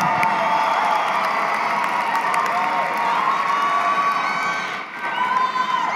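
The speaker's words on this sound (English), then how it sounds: "give them a great round of applause" A commencement audience gives a sustained round of applause mixed with cheering and shouts, loud and continuous throughout, dipping briefly near the end before swelling again.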